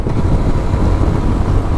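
A GPX Demon motorcycle speeds along a smooth road toward a river bridge, its engine a loud, steady low rumble buried under constant wind buffeting on the microphone, with no voices.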